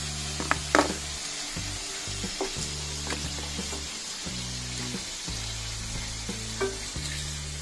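Potatoes fry in oil with a soft, constant sizzle and scattered pops, heard fairly faintly beneath steady background music.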